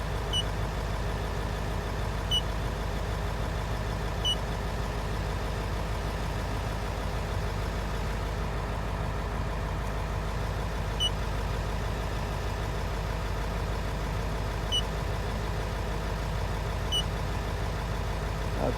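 A Ford 7.3L Power Stroke diesel engine idles in a steady, even rumble, faint and continuous for the whole stretch with no one speaking.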